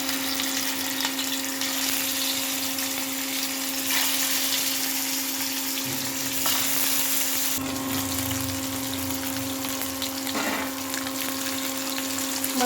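Pieces of catla fish frying in hot oil, a steady, continuous sizzle with a constant hum underneath and a few brief clatters from the pan.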